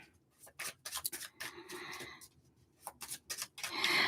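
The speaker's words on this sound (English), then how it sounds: "I'm just shuffling to confirm what I'm picking up in your energy, Neon." Tarot cards are shuffled by hand in repeated quick riffling, brushing bursts with short pauses between them, close and fairly quiet.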